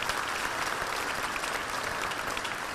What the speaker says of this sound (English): Give a round of applause for those folks.